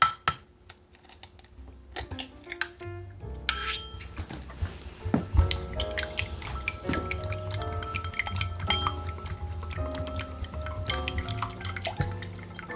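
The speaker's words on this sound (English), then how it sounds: "I'm going to crack mine into a bowl and whisk it up a little bit." An egg is cracked into a bowl and whisked for a keto cheesy bread, giving a brief crack and drip followed by rapid, continuous clinking of utensil against the bowl, close and fairly loud.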